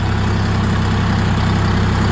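A heavy engine idles steadily with a deep, even low-frequency rumble and a constant drone throughout, close by, with no talking.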